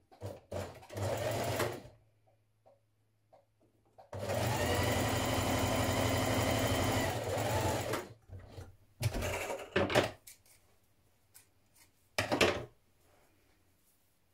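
A sewing machine stitches a sweater seam in several bursts: a short run, a longer steady stretch, then a few quick stop-start spurts separated by quiet pauses.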